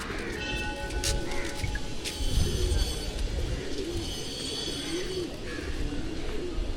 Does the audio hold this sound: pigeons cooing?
yes